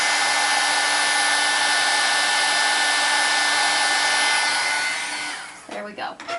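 A heat embossing tool blows steadily and loudly onto embossing powder on a winter greeting card, a constant rushing hum that runs for about five seconds before cutting off abruptly, followed by a few faint handling sounds.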